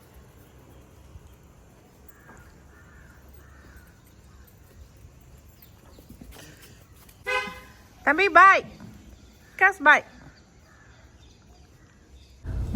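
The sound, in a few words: crows cawing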